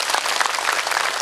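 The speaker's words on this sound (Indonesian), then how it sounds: "tepuk tangan dong untuk kabupaten ini" Audience applause at a regency anniversary religious gathering: a dense, steady burst of many hands clapping, loud and close, with no talk over it.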